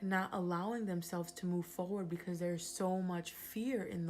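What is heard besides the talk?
None of the usual background noises is heard.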